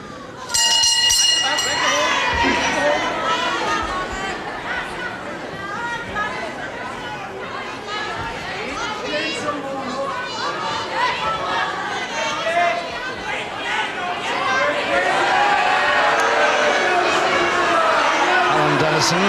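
A 1970s World of Sport wrestling crowd jeers and shouts at Alan Dennison during his bout, a steady, loud babble of many voices rising and falling for the whole stretch.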